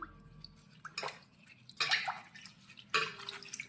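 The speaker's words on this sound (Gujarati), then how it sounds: "જેને આપણે પાણીથી એકદમ સરસ રીતે ધોઈ દઈશું" Water splashes and trickles in short bursts as ten Malabar nut (adulsa) leaves are rinsed, with quiet pauses between three main splashes.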